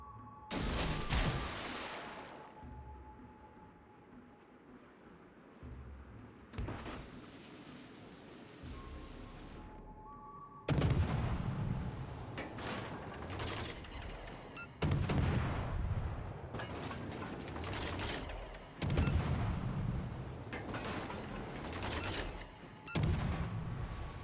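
Heavy naval gunfire from battleship guns in World of Warships Legends, loud repeated booming salvos with sharp onsets and rumbling decay, some spaced seconds apart and others in quick clusters, over a constant low sea and engine rumble.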